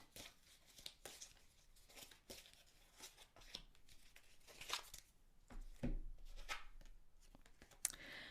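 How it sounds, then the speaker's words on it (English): An oracle card is drawn from a tarot deck, with soft, close paper rustles, riffles and light flicks scattered across a quiet room. "I'm going to pull an oracle card for the body"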